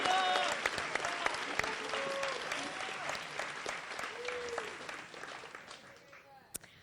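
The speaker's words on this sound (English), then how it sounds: "We want to applaud halfway?" Applause fills a school auditorium at a 2015 senior awards night, a steady clatter of many hands that slowly fades, while voices murmur and someone talks over the clapping.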